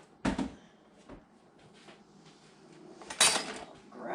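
Dishes and a spoon clink and clatter in a home kitchen, with two sharper knocks standing out among softer scattered rattles and handling noises, fairly close and without talk.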